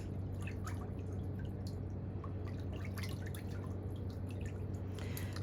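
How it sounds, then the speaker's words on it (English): Nail fungus treatment liquid drips onto curled, pinched toenails in quiet, scattered drops and small splashes over a low steady hum, with no talking. "this is the Nail Mycosis product, drip it right down into those grooves"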